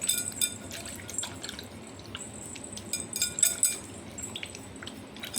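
Water drips and trickles at a sink while a bowl is rinsed, with irregular splashes and small pours close by at a low, steady level; no talking.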